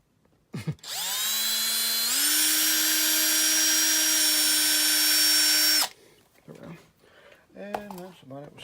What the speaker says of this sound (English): We'll set the drill to the side for a second.